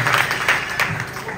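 A crowd of villagers claps at a Varkari dindi send-off and felicitation ceremony in rural Maharashtra, producing a short, dense burst of applause.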